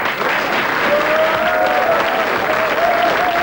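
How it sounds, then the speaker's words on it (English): Studio audience on a television programme applauds steadily and loudly, a dense sustained wash of clapping lasting the whole stretch with a faint tone running underneath. "Give her a clap."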